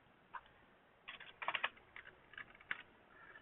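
Typing numbers on a computer keyboard, a few quick soft key clicks in small clusters, close and quiet.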